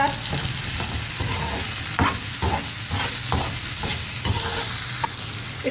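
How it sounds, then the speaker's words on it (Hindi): Vegetables fry with crushed black pepper, crushed red chili and salt in a pan for egg jalfrezi, giving a loud, continuous sizzle close by with repeated stirring scrapes throughout. No one speaks. "ये फ्राई हो रही होगी"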